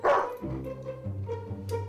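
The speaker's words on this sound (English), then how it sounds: "Is that same old noisy dog getting you down?" A dog gives one sharp bark, then a few whimpering, whining yips, close and loud, with no talk.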